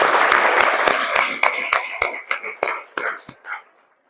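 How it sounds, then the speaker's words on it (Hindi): An audience at an NDS shivir gathering in Surat, Gujarat, claps in unison: about a dozen evenly spaced, crisp claps over a murmuring crowd, gradually softening and slowing before fading out. "आपके लिए तालियां हो जाए"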